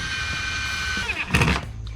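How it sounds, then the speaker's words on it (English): A power drill whines steadily at close range, then its pitch shifts into a rougher, grinding burst as it bites into material, drilling pilot holes while installing an Andersen 3000 storm door. No one speaks. "we can actually pilot drill our remaining 2 holes on the top and bottom here"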